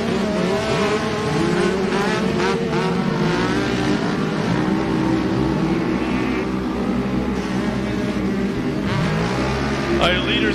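Short-course race vehicles roar across the start-finish line at Glen Helen Raceway, their engines loud and continuous, with layered revving from several machines and a commentator talking over the din.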